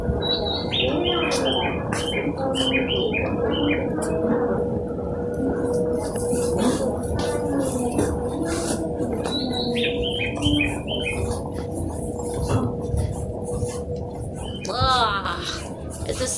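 Recorded fake birdsong plays over speakers at a Japanese train station, bright repeating chirp phrases in bursts against steady station hum and background chatter, with a brief higher warble near the end.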